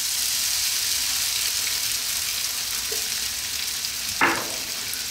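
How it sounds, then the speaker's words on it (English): Cumin seeds and small-cut diced potatoes fry in hot oil in a pan for a prawn curry, a steady broadband sizzle throughout with a brief stir or clatter near the end. "We're gonna start off by putting in those cumin seeds and those potatoes cut nice and small."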